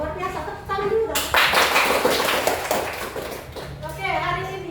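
A class of children bursts into loud, sustained applause in a classroom, filling about three seconds before fading. An adult voice speaks briefly before and after the clapping.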